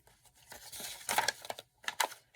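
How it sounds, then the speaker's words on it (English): Paper pages flipped through by hand for papercraft, producing soft rustling swishes and crinkles in a few short bursts, close and fairly quiet. "So I'm just flipping through these pages that I have here"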